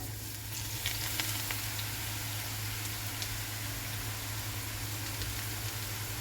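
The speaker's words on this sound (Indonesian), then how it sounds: "Kalau minyaknya sudah benar-benar panas, baru kita masukkan tempenya. Tempenya kita goreng ya." Tempeh fries in hot oil with a steady, crackling sizzle and occasional pops, close up and continuous, no voices.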